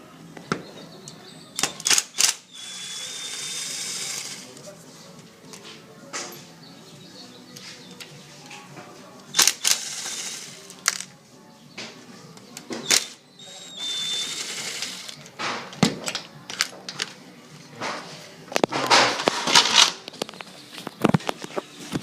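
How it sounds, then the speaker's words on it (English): A power screwdriver backs screws out of a sliding door's bottom rail, giving several short whirring bursts with clicks and handling clatter between them, close and moderately loud. "Remove the 3 screws from the bottom rail."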